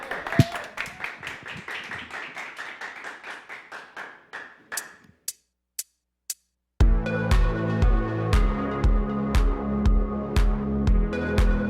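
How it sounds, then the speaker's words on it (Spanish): Audience at a musical performance clapping in steady rhythm, the claps thinning to a few isolated ones before a silence, then music begins loudly. "¡Aplauso!"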